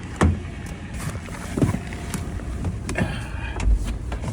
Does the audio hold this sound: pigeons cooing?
no